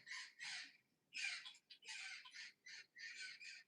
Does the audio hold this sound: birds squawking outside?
yes